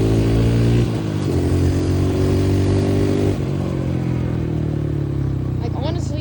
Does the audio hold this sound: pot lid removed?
no